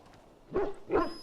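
A large dog in the fantasy video game Dragon Age: Origins gives two short, close whimpering yips about half a second apart over a quiet background.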